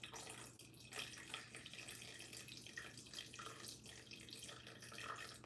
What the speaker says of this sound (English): Stu, just hold still and add a little bit more water.